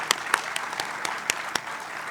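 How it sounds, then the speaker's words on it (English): Audience applause at a boards and commissions appreciation luncheon, a steady wash of many hands clapping with a few sharper claps standing out, moderately distant and alone without talk. "give them a round of applause"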